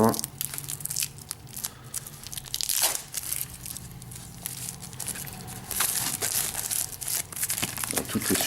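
Plastic packaging around Warhammer 40k Forbidden Stars board tiles is torn and crinkled open up close, with continuous rustling, crackling and tearing bursts, including a louder rip partway through.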